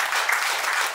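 An audience at a Kargil war memory talk event claps steadily, a dense wash of applause that fills the moment without pause.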